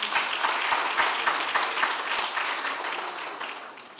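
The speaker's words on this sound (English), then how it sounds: "Can we give them a round of applause?" Audience applause for academics receiving teaching awards at a conference ceremony, a lively steady round of clapping that tapers slightly toward the end.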